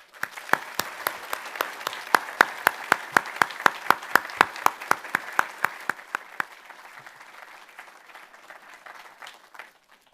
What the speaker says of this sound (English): Please join me in giving these Chief Selects a round of applause